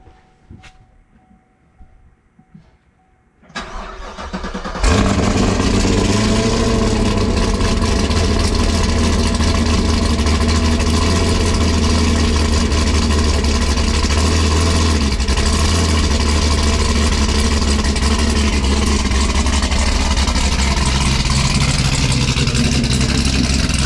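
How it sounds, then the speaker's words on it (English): A car engine turns over and then settles into a steady, loud, continuous idle that runs unbroken for about twenty seconds, following a few seconds of quiet background noise before it starts. "You hear that, buddy? That's Daddy's car."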